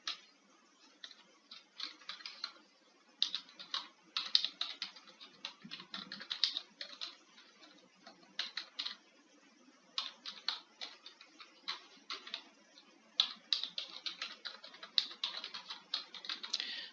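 Someone types a message on a computer keyboard, producing steady irregular bursts of soft key clicks with brief pauses, close and fairly quiet, with no voices.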